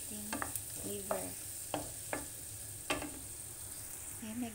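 Chicken liver dropped in with melted onions in a pan for adobo, clattering with intermittent stirring scrapes over a soft, low fry, close by with no talking.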